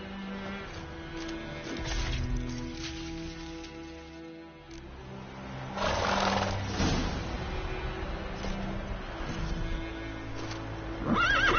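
In a PS4 video game, horses give loud whinnies and neighs, one rising near the end, with a faint patter like rain or hooves beneath. The sounds are close and heard alone, with no talking.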